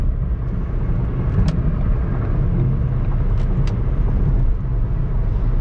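Steady low road rumble and engine drone from inside a 2016 Ford Fiesta SE hatchback as it drives, with the air conditioner on low and a few brief clicks, continuous and fairly loud throughout with no talk.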